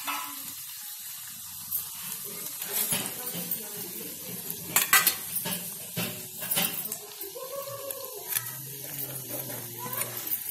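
Spices, turmeric, ground coconut and garlic stirred through oil in a pan for a stuffed eggplant dish, with soft sizzling, scraping spoon strokes and clinks against the pan, close and moderately loud, with occasional voice in the background.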